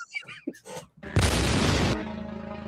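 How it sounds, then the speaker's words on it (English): A loud explosion sound effect from a Star Wars scene erupts after brief talk, a sudden broad blast that holds for nearly a second before a lower rumbling tail. "the fucking explosion noise is crazy"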